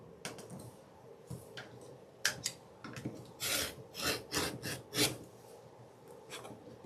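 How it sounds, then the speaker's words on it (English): A rotary cutter slices diagonally across a fabric square on a cutting mat, giving a series of close, rasping scrapes in short bursts, with no talking. "the next thing we're going to do is to just do 2 cuts, corner to corner,"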